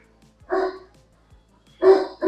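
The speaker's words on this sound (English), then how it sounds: "He hears the dog out there." A dog barks outdoors: one bark, a pause, then two more quick barks close together, fairly clear against a quiet background.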